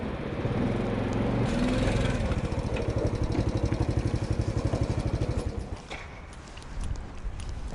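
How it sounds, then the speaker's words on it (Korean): A rural postman's motorcycle rolls into a school in the Jirisan mountains, its rapid rhythmic engine putter loud and close, then settling to a softer idle toward the end. "오토바이가 학교로 들어섭니다"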